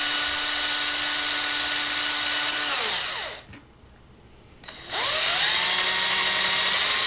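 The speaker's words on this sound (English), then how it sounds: "Get them sanded down," Rusty, slightly corroded Tootsie Toy diecast axles being sanded by a power tool, a steady loud whine that cuts out briefly midway, then resumes and holds to the end.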